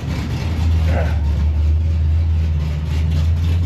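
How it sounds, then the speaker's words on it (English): A loud race car engine with no muffler idles with a deep, steady throbbing rumble close by, holding a constant pitch throughout with a brief rev near the start. "every car here is loud"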